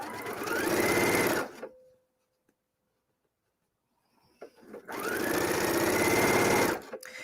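A sewing machine stitching a Hong Kong seam finish, with two rapid bursts of motor-driven needle chatter, each about two seconds long, separated by a quiet pause with small handling clicks; close and clear.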